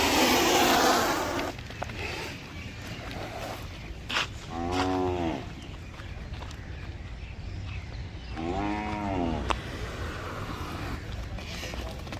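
An eight-month-old Khillar calf moos twice, a few seconds apart, against a steady outdoor background hum with faint voices.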